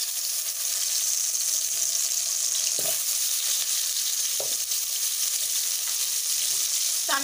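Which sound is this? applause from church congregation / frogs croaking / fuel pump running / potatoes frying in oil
potatoes frying in oil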